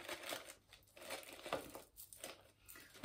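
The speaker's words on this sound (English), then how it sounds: "get your plastic bag inside." A plastic bag crinkles and rustles softly inside a paper mache boot being made into a flower pot, with quiet, irregular crumpling bursts and no talking.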